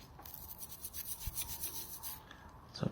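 Scrubbing of electrical connector contacts with contact cleaner while restoring a connector, a faint steady rubbing rasp with soft repeated strokes throughout, close and quiet.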